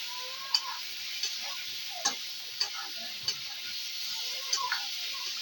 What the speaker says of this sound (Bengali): তারপরে এটাকে একটুক্ষণ ভালো করে নাড়াচাড়া করা হচ্ছে।